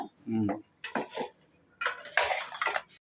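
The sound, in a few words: washing dishes, pots clattering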